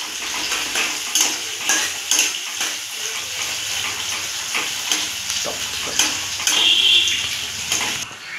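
Thinly sliced onions sizzle and crackle steadily in hot oil for a chicken kasa, with scraping stirs and occasional utensil clinks against the pan, close and fairly loud, no talking.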